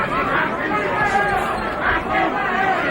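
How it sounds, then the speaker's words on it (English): Boxing arena crowd at the Tony Tucker versus Mike Tyson bout, a steady dense roar of voices booing and chattering, swelling slightly in waves throughout. "Crowd booing the tactics of Tony Tucker"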